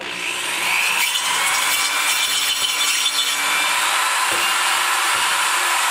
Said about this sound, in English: So I take me a 530 PC cutter on a drill.